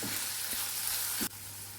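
Onions sauté in a pan for drumstick leaf poriyal, a soft hissing sizzle with a couple of light stirring taps, close and quiet, dropping slightly at the end with no voices.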